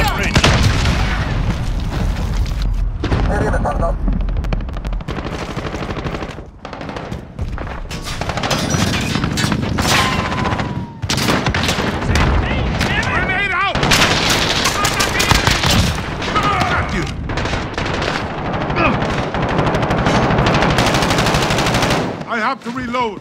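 Call of Duty Modern Warfare match with loud continuous machine-gun fire and booming grenade explosions, dense battle noise throughout, with in-game voice callouts mixed in.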